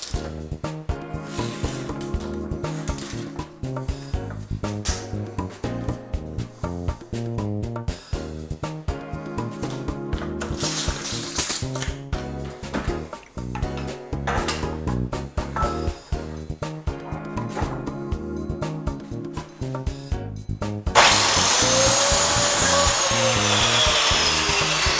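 Power saw cutting through pine wood stock for a new pine wall, a loud continuous buzzing with rhythmic rasping strokes, ending in a brighter, harsher burst of sawing near the close, no voices.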